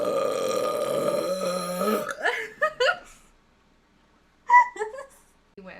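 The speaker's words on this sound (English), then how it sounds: "That was an angry burp." A loud, guttural burp erupts at close range, followed by brief vocal sounds and a second short burp after a pause, with some background sound before it.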